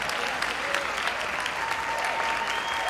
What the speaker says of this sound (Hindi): एक बार जोरदार तालियों के साथ सुदीप का स्वागत करें